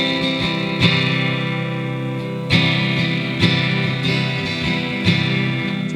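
Gentle strummed guitar playing a song verse, with a steady down-and-up strum pattern of chords, strokes accented roughly every second, played alone at moderate loudness.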